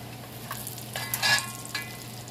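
Bacon sizzles and crackles in a frying pan, a steady low hiss broken by a few brighter pops and spatters, moderately quiet and close, with no talking.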